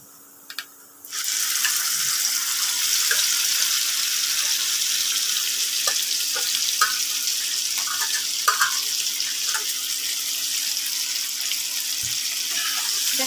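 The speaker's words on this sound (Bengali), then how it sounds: "এখন যে আমি মাছটা মশলা দিয়ে মেখে রেখেছি সেটা আমি এখানে দিয়ে দেব।" Spice-marinated shing fish dropped into a pan of browned onions, setting off a loud, steady frying sizzle that carries on throughout with occasional clinks and stirring clatter, and no talking.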